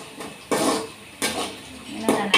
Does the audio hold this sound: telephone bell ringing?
no